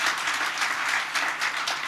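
An audience applauds Mr. Henry Sura at an International Domestic Workers Day event in Kenya, with a short burst of dense, steady clapping from a crowd.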